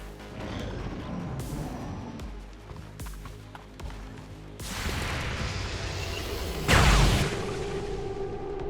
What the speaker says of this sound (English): A lot of Overwatch shots.